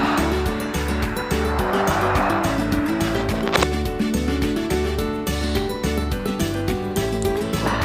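A bus idles and maneuvers in Bus Simulator Indonesia, its engine droning in a steady low pulse with a brief tire squeal partway through, close and continuous, with no talk.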